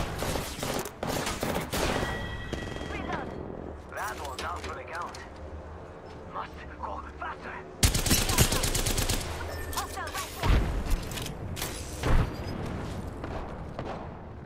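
Gunfire in a fast-paced battle royale shooter, with rapid volleys and single cracks scattered throughout, a heavy burst in the middle, and a player's voice talking over much of it.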